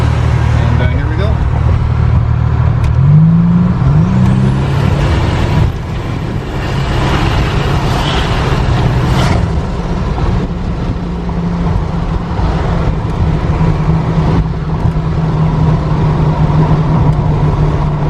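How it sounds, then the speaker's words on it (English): A Buick GNX accelerates hard in passing gear, its engine roaring loudly and steadily from inside the car, with someone talking over the noise. "we'll try to hit passing gear, and again we'll show you how fast this car can potentially accelerate"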